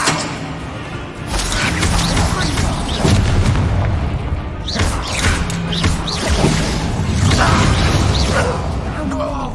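Spell blasts from Hogwarts Legacy, a Bombarda explosion among Confringo and Incendio casts, booming in loud bursts with whooshes and crashes over a dense, continuous combat din.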